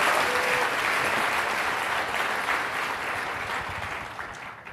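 A conference audience claps warmly for the event's sponsors, a dense, steady wash of applause from many hands that gradually eases off over a few seconds.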